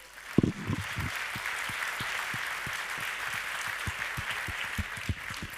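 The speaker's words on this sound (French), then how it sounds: "On peut applaudir une nouvelle fois Abello." At a business awards ceremony in Puy-de-Dôme, an audience applauds a trophy winner again with a continuous wash of clapping and a few louder, distinct nearby claps.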